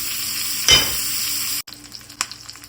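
Butter sizzles and crackles in a frying pan as eggs cook, a steady loud hiss with a brief clatter and a sudden cut partway through, followed by quieter sputtering.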